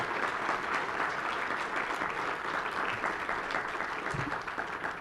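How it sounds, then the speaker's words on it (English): Steady, fairly faint audience applause for award winners and nominees at a community event, sustained clapping throughout with no talk over it. "Let's please give all of our award winners and nominees another round of applause for all"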